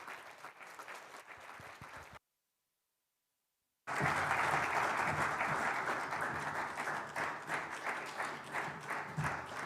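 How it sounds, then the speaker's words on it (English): Applause for a minister at a Namibia-EU business forum, a crowd clapping in a brief burst, a short silent gap, then louder sustained clapping that carries on steadily. "A round of applause for her, please."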